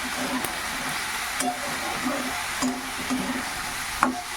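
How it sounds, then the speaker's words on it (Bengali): Vegetables being stirred in a pan, a continuous soft sizzle with periodic scraping and knocking of a spatula against the pan, fairly close and moderately quiet. "বন্ধুরা সবজিগুলো দিয়ে দিচ্ছি, এবার ভালো করে এই যে নাড়াচাড়া করে নেব"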